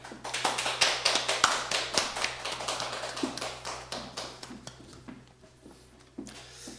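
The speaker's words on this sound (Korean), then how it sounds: "목사님 나오실 때 박수로 한번 환영하도록 하겠습니다" A church congregation claps to welcome the pastor at a Sunday worship service, dense overlapping claps that thin out toward the end with no talking.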